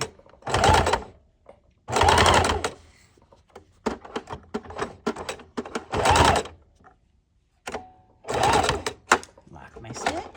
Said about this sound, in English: Then we'll take it out of the sewing machine, turn it around, and stitch it on the outside of the machine